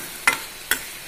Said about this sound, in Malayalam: എന്നിട്ട് നല്ലപോലെ ഒന്ന് ഇളക്കി യോജിപ്പിക്കാം.